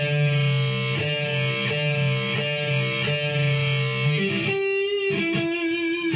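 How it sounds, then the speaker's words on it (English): Distorted electric guitar playing sustained two-note double stops, with a note bent upward partway through while the other holds steady on a D, rhythmic picking throughout. "you get a really mean sounding double stop."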